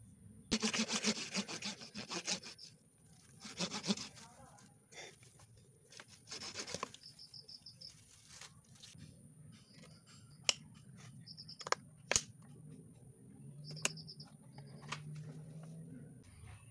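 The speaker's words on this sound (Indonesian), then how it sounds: "Yang belakang ini juga dipotong." Bonsai branches cut during pruning, bursts of rasping, sawing-like cuts followed by several sharp isolated snips, close and fairly quiet, with faint bird chirps in the background.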